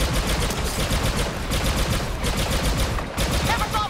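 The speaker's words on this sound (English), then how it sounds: "Never thought we'd be shooting walkers." Blaster gunfire from a Star Wars Battlefront II Galactic Assault multiplayer battle, with rapid, continuous bursts of energy-weapon fire crackling loudly throughout amid dense battle noise.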